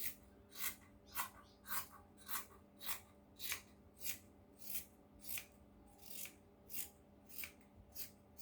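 Scissors cut fabric for a cowl neck top in steady, evenly spaced snips, about fourteen of them, each a crisp close swish with a quiet pause between and no talking.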